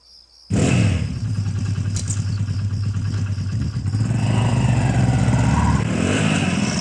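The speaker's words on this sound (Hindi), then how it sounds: "बाइक से चलते हैं।" A motorcycle engine starts and revs loudly up close, then settles into a steady throaty run as the bike pulls away, with a short clatter near the start.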